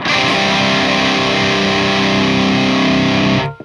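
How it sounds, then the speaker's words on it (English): Electric guitar with hard-rock distortion through an amp with presence cranked fully up and a blanket over the cabinet, one loud, bright sustained chord ringing for over three seconds, then cut off, with no talking. "You see how much more clarity there is there with the presence cranked?"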